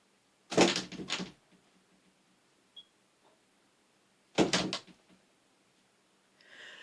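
A door swings and bumps twice, each a short burst of creaking and knocking, separated by a few seconds of quiet with a faint click between.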